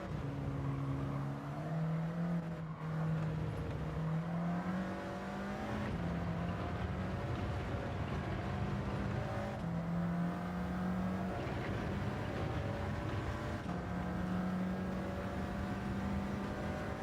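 A race car engine in a racing video game time trial whines high and steady, its pitch stepping up and dropping with gear changes across a continuous run, with no one speaking.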